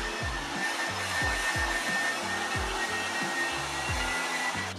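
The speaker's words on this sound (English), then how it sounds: "My Revlon blow dryer. I like to put it in the low setting." A Revlon hair dryer runs steadily at a low setting, a continuous airy whoosh with a faint motor hum and a rhythmic low flutter, close and uninterrupted.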